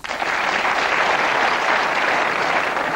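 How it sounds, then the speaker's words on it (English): Dense, sustained applause from a large crowd, a steady roar of clapping that starts abruptly and holds at an even, fairly loud level throughout with little talk over it. "Oh, are we getting applause there for?"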